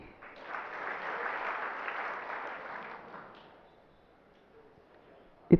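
An audience at a Jain religious discourse in Aurangabad claps in a short burst of about three seconds. The clapping is moderately loud at first, then fades into near quiet, ending with a single sharp knock.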